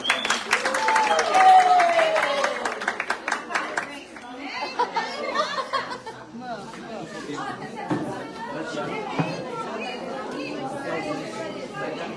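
Applause for children at a church service, a burst of many hands clapping at once that fades within a few seconds into the murmur and chatter of a congregation, with voices talking throughout.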